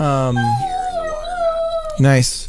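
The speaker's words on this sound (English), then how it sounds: "Sorry about my dog." A German Shepherd howls loudly and close by, a long wavering tone with a sharper yelp at the start and again at the end, while a person speaks briefly nearby.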